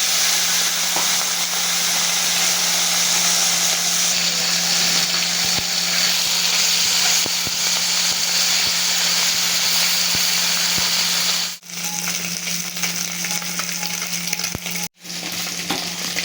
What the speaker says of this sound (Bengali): তেলটা আমার গরম হয়ে গেছে, এবার আমি মাছগুলোকে দিয়ে দেবো।